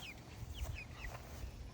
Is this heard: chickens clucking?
yes